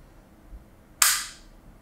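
A Sig M17 airsoft pistol fires a single shot, one sharp, close crack like a cap gun that decays quickly into a quiet room, preceded by a faint low thump.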